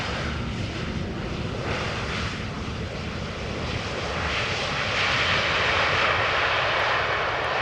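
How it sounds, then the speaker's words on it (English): Brand-new EasyJet Airbus A320neo in Neo livery arriving at Amsterdam Schiphol from London Stansted, its engines a steady broadband roar that swells gradually louder over several seconds with no voices. "EasyJet A320 Neo arriving from London Stansted."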